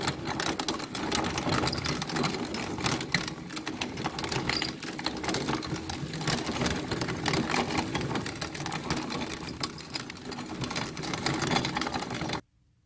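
A corn grinder grinds shelled corn with a continuous, busy mechanical whir and rattle for about twelve seconds, then cuts off abruptly. There is no talking.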